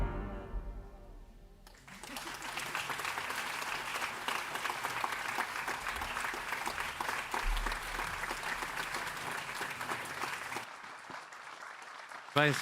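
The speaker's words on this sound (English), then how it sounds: "Proszę Państwa, wielkie brawa jeszcze raz." After a quiet start, audience applause erupts at a literary award ceremony, a full and even wash of many hands clapping for about nine seconds before it cuts back to near silence.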